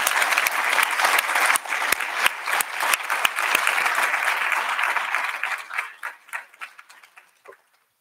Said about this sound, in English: Let's give these students a rousing round of applause.